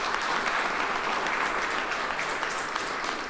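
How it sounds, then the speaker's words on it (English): Loud, steady applause from an audience at a police academy graduation ceremony, a dense wash of clapping close by that holds evenly throughout and fades slightly at the end. "Let's give them a round of applause"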